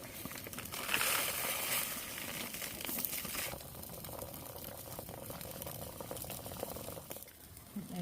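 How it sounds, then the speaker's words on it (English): At a solo camp in heavy rain, hot water is poured onto mash inside a mylar bag, a crinkling, splashing pour with rustling plastic that eases off toward the end. "I'm going to put the mash in this mylar bag and put the hot water in there"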